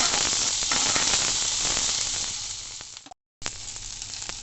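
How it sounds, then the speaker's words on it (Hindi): Okra and green chillies sizzle and fry loudly in hot oil in a pan, a steady close hiss that cuts out briefly before resuming. "भिंडी डाल के इसको थोड़ा सा ऐसे घुमाएंगे ज़रूर"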